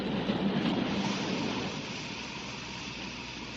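Train coming to a halt after the emergency chain is pulled, a steady rumbling rail noise with carriage rattle that eases slightly in loudness partway through, with no clear squeal of brakes.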